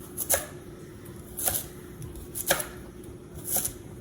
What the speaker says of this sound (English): We're just going to push till the knife hits the board.